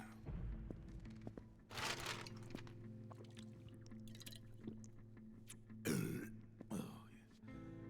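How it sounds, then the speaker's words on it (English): A burp from a character in the video game Metal Gear Solid 4, a loud, low, rough eruption near the end, following an earlier broadband burst over a steady hum of game ambience. "Good lord, that burp."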